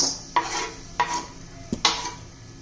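Dry fruits and jaggery being stirred in ghee in a pan, with several distinct scraping strokes of a spoon against the metal and a faint sizzle between them, close and clear with no talking.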